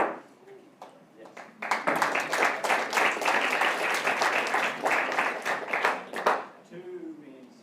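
Members of the University of Louisville student government senate break into loud, steady applause lasting several seconds indoors, with a brief spoken remark before and after.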